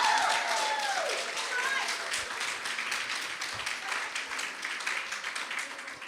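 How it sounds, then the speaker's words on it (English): Audience applause at a women in business seminar: dense, steady clapping from a crowd, loud and sustained for several seconds, fading slightly toward the end. "I expect to hear the volume of that applause increase as you applaud yourself for how amazing you've been at work this year."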